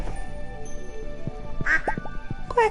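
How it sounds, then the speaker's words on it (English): Ducks quack in the Stardew Valley farming game, a few distinct nasal quacks near the end over bouncy summer background music and light game effects. "Quack, quack, quack."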